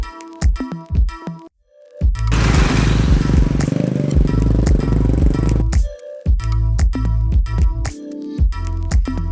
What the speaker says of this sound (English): It was a pretty long motorbike ride back.